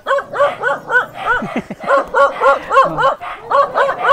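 A dog that has followed a visitor to a house barks and yips in quick repeated bursts, close and loud, with short pauses between volleys and a brief whimpering note in the middle.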